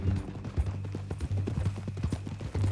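In the video game Red Dead Redemption 2, horse hooves clip-clop in a steady walking rhythm under a low hum, fairly quiet and close, with no talk over them.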